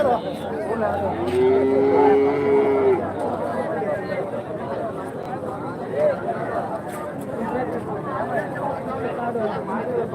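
Cattle moo at a native cattle market near Hosur, with one drawn-out low moo rising early over busy crowd chatter and people talking throughout.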